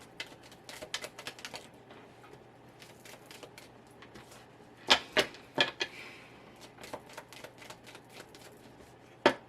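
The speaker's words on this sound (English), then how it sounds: "I'm just going to get your stuff all shuffled up and on the board here" Tarot cards being shuffled, a run of crisp riffling and tapping bursts with a few sharper slaps midway, close and fairly quiet with no talk.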